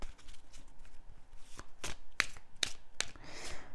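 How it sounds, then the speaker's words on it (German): Lenormand oracle cards being shuffled by hand during a tarot-style reading, giving a run of soft papery riffles and several sharper snaps of card edges, close and fairly quiet, with no one speaking. "Ziehe ich auch noch mal 2 Lenormand-Karten zu."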